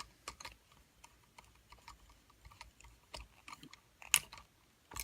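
Faint small clicks and scrapes of a screwdriver tightening a terminal screw on a household wall outlet, quiet and close, with scattered irregular taps and no talk.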